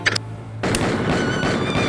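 A prop gun fires during a film shoot: a sudden loud burst breaks a quiet moment, followed by a sustained noisy crackling wash that carries on to the end.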